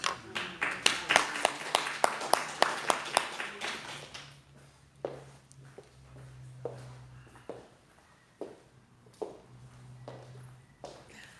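Congregational applause at a church Bible study on Job, a burst of rapid, fairly close clapping for about four seconds that then thins out to scattered claps over a low steady hum.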